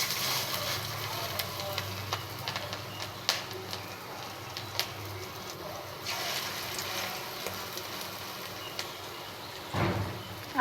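Masoor dal fritters (bora) frying in hot oil over a low flame, a steady close sizzle and crackle running throughout, with brief louder bursts as more batter goes into the pan.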